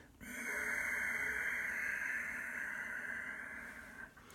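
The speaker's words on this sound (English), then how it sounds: "just keep on going with that silky, whistling, raspy sound from the back of the throat" A sustained Ujjayi breath exhale makes a silky, raspy, slightly whistling throat sound. It rises quickly, holds close and fairly strong for about four seconds, then tails off, with no voice over it.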